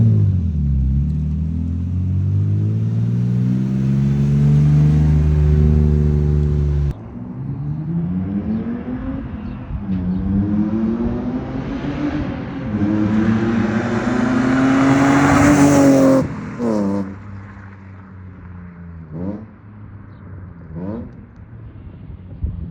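A BMW E36 drift car with a custom-fabricated exhaust revs hard nearby, its torquey engine climbing through several loud throttle sweeps and dropping back to a rumbling idle, with no talking.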